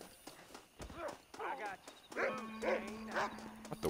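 Horse hooves clip-clop at an irregular pace in the video game Red Dead Redemption, moderately close, mixed with other game sounds and voices talking throughout.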